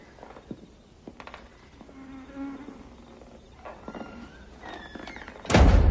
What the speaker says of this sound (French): Putain de moustique!